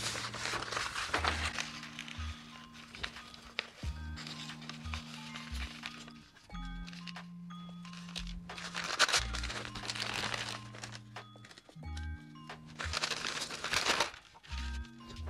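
Pieces of paper are handled and crinkled while being tucked under a fish's fins on a board for fish printing, giving repeated close rustles and crumples over a low steady hum, with no talking.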